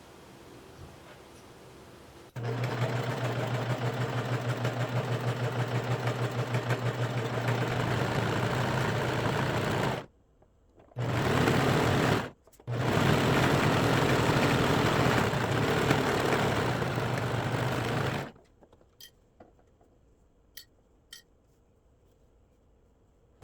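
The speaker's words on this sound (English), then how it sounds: "And we're going to use our serger." A serger overlocking the curved edge of athletic tank top fabric runs in loud, steady bursts with two brief pauses, then stops, leaving a few faint ticks and handling noises.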